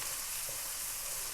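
Chopped onion fries in oil or ghee in a kadai for Lahori chana, producing a brief, soft, steady sizzle without voices.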